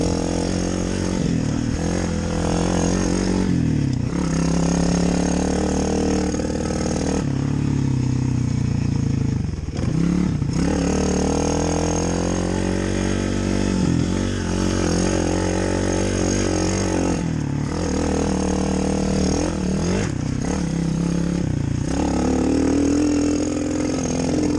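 A KTM dirt bike engine runs steadily and loud throughout, idling and revving with rough, uneven surges and dips, sounding in need of a tune-up.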